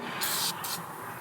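An aerosol can of rubber seal conditioner, used on a Geo Pro 19FBS travel trailer, sputters out two short, close hisses in quick succession.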